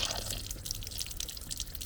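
Water streaming from a BWT scale inhibitor into a water butt, a steady close splashing trickle with faint drips, running continuously with no voices.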